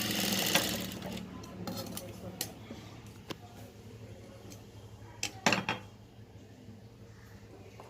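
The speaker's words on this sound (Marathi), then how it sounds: "आता याला आपण शिलाई मारून घेणार आहोत राऊंड बाजूने." Sewing machine stitching a round-edged piece of cut fabric, running in short uneven bursts with sharp clicks and clatter between runs, close by and without talk.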